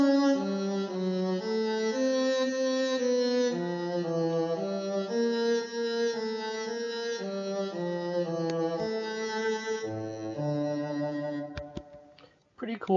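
MuseScore software playback of a Bach cantata continuo line rendered as a cello solo, unphrased: a steady stream of evenly detached synthesized bowed notes, moving in sequences with uniform attacks, with a few clicks at the end.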